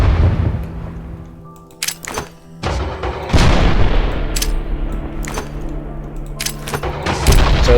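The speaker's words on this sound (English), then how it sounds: "And then we have a frag grenade." Frag grenade explosions in the Minecraft TechGuns mod: several loud, booming blasts with sharp attacks and rumbling tails, spread across a noisy game soundscape and ending in a final heavy boom.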